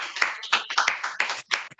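A church congregation claps to acclaim the Lord, a quick, uneven run of close, bright hand claps over a couple of seconds.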